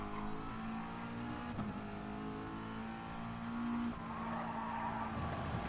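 A McLaren GR4 race car in Gran Turismo Sport holds a steady engine drone, briefly lifts off, then revs back up with some tire squeal, fairly quiet and continuous with no talk.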